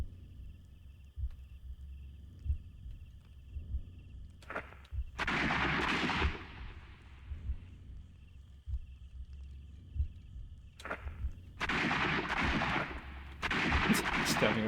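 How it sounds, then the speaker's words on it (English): Gunfight in the Sherlock Holmes: Crimes and Punishments video game, with several bursts of heavy gunfire and booming shots separated by quieter gaps over a steady low game hum. "Just having a fucking gunfight."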